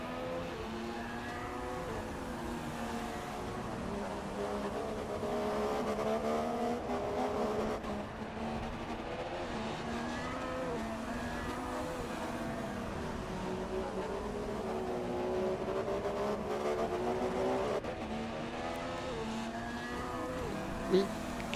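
Formula 1 car engine in the F1 2016 racing game at the Russian Grand Prix, a steady loud drone with rising and falling pitch sweeps as gears shift, continuous throughout with faint speech underneath.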